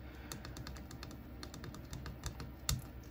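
Buttons clicked on a Bureck diesel heater thermostat made for a Chinese diesel heater, giving a steady run of light, close plastic clicks over a constant low hum.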